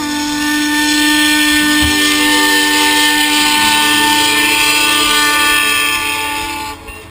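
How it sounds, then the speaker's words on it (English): A century-old steam locomotive sounds one long, loud whistle with a steady, rich tone that holds for several seconds and then fades, accompanied by a low rumble of the engine. "There's such a profound loneliness to the sound of a steam engine's whistle."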